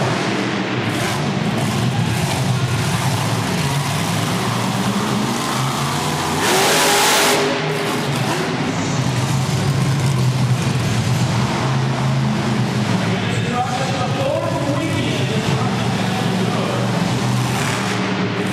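A monster truck at a Toughest Monster Truck show in Youngstown, Ohio, revs its engine hard while spinning a donut, a loud sustained roar with surging throttle bursts and one sharp burst of noise midway, heard over arena ambience.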